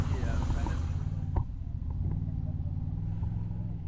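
An off-road cage build vehicle's engine rumbles steadily and gets a little gas, a low, close drone with a brief bump partway through and people speaking nearby.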